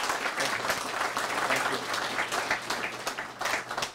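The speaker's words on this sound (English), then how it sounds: "why don't we just give them an applause and welcome right now" A meeting-room audience of military historians applauds to welcome honored veterans, a steady, moderately distant patter of many hands lasting about four seconds.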